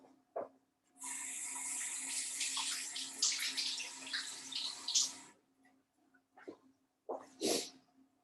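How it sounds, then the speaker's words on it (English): Hands are rinsed under a running kitchen tap: a steady gush of water lasting about four seconds, then a few brief splashes and drips, close and fairly quiet. "So I'm just going to rinse my hands."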